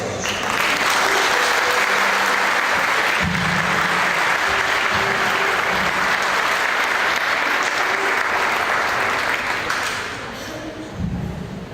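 Loud, sustained applause fills a church conference hall in Estelí, Nicaragua, as a congregation claps for the Lord after a talk on the family. The dense clapping runs steadily, then thins and softens near the end.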